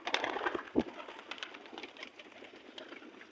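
A pigeon coos softly and close by, giving a few brief, low calls against faint background rustling.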